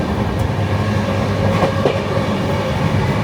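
A train in India bound for Haridwar runs on the rails with a steady, loud rumble and rattle of carriages and faint clicks over the track joints, heard from on board with no talk.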